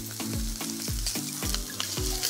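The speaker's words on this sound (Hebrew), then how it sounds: "אני רוצה לשים את המי בישול במחבת עם קצת דבש" Cooking liquid and honey sizzle and fry steadily in a frying pan, close and continuous, with a repeating low thump from stirring or a pan-side rhythm beneath the hiss.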